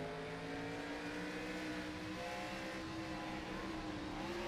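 Race car engines in a racing video game, several cars droning together at steady high pitch then easing off the throttle, tones sagging slightly as they lift, a constant layered engine whine throughout.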